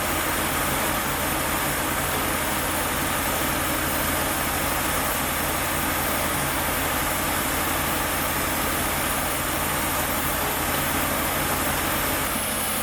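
A Ford Maverick engine idles steadily after sitting 26 years, a loud, continuous, close rumble with a slight rhythmic chatter from noisy rockers and no voices.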